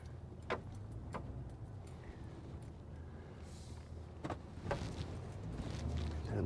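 A car drives across a highway into a park, heard from inside as a quiet, steady road rumble with a few brief clicks and knocks, the noise swelling slightly toward the end.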